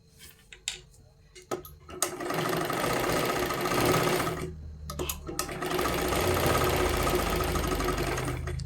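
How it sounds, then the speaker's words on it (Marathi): An electric sewing machine stitches a katori blouse. A few clicks and short starts come first, then two long, loud, close runs separated by a brief pause. "आता ह्याच्यावरती पुन्हा एकदा आपल्याला एक डबल शिलाई मारून घ्यायची आहे"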